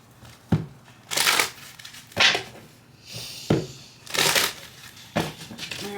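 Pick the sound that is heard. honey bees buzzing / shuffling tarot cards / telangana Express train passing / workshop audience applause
shuffling tarot cards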